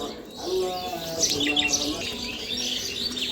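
Pet birds chirping and tweeting near their food pots on a rainy, cool day, a busy cluster of high calls over soft low cooing, fairly close and steady throughout.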